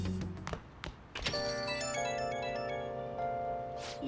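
Phone ringing in the Persona 5 Royal video game: a soft thunk and a couple of clicks, then a bright, steady electronic ringtone melody with sustained chiming tones that plays on alone.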